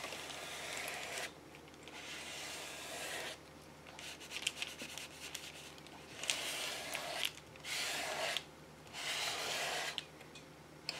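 A credit card is rubbed over paper laid on a page, making quiet, close scraping strokes that come in several separate bursts with short pauses between them.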